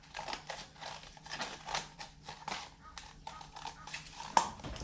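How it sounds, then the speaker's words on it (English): Scissors snip around a pom-pom for an ice-cream cone craft, a close, quiet run of short crisp cuts with no talk. "So I'm just going to cut down and around."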